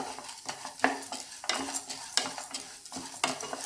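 Idli podi ingredients dry roast in a pan, stirred with repeated rhythmic scraping strokes of a spoon, each sweep a rustling, gritty rasp, close up and fairly loud.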